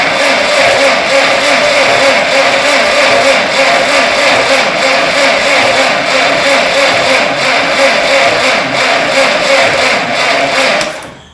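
A Massey Ferguson TO35 tractor engine cranks over on starter fluid, a loud, steady mechanical churning held close for about eleven seconds before cutting off, turning over slowly without catching.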